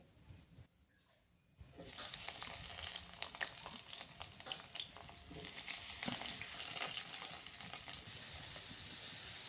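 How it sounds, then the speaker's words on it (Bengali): Aubergine pieces for a spinach dish drop into hot oil in a wok, setting off a loud, steady sizzle after a quiet start that keeps crackling near and unbroken to the end. "কড়াইতে তেল গরম হয়ে এসেছে এবার বেগুনগুলো দিয়ে দিব"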